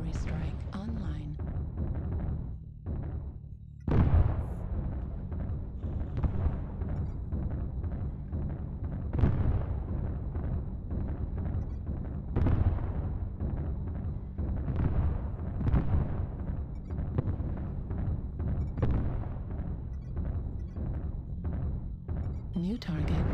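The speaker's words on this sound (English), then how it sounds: "Artillery strike online." Heavy artillery-strike booms in the mech combat game MechWarrior Online land as several deep, loud thuds spaced a few seconds apart over a constant rumble of battle noise.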